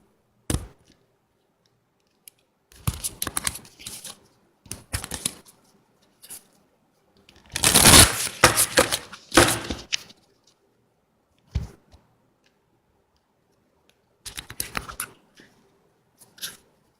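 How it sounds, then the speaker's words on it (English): Oracle cards from a Healing the Mind and Spirit deck handled and drawn, producing bursts of dry papery shuffling and flicking, loudest in a dense run in the middle, separated by quiet gaps. "I am going to also now take a card from the Healing the Mind and Spirit cards by Brian Weiss"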